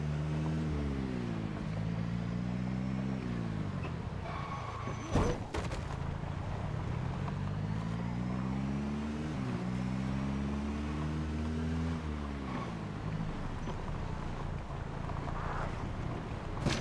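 A vehicle engine drives in the zombie survival game Project Zomboid, its tone climbing steadily then dropping back in repeated gear-shift cycles over a continuous rumble, with one sharp thump partway through.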